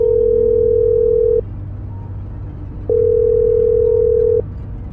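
Telephone tone heard while placing a call: two loud, steady single-pitch beeps about one and a half seconds each, separated by a pause of similar length, clean and close.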